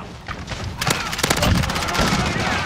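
A video game fires bursts of gunfire that build into dense, rapid shots and booms, loud and continuous, with some voice activity mixed in.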